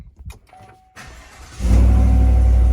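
A Chevrolet Silverado pickup is cranked and fires up after a few quiet clicks and rustles, its engine catching about halfway through and settling into a loud, steady idle rumble close by.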